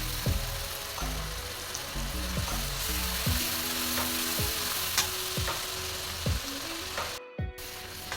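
Tomato and chili puree hits a hot pan for a Bengali-style crab curry and sizzles loudly and steadily. Close scraping stirs and clicks repeat at a regular rhythm over the frying.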